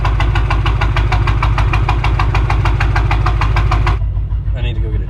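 A BMW M5 with a rebuilt engine runs loud and close, a steady pulsing exhaust rumble with rapid firing beats that abruptly drops away near the end.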